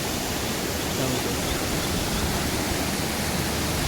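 Floodwater after heavy village rain rushes across a farm field and spills over an overtopped bridge, a loud, steady broadband roar of churning water close by, unbroken for the whole stretch with no voices.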